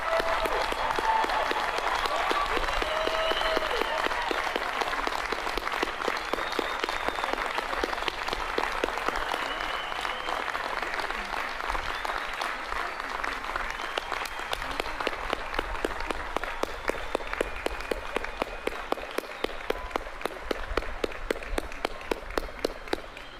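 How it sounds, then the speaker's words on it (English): Sustained applause from a large crowd at a university commencement ceremony, a broad, even wash of clapping with rhythmic claps emerging toward the end, moderately distant and continuous. "Let's give a big round of applause"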